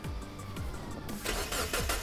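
A project car with a new exhaust cranks and fires up, repeated starter whirs giving way to a low engine rumble, close and moderately loud.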